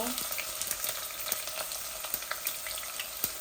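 Red and white onions frying in hot oil in a pan, a soft, continuous sizzle with faint crackles, fairly quiet and with no talking.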